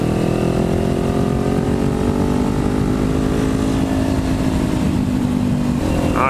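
A Kawasaki Ninja 400 motorcycle with an aftermarket exhaust idles and revs with a deep, throaty note, loud and close, pitch rising slightly before a short burst at the end.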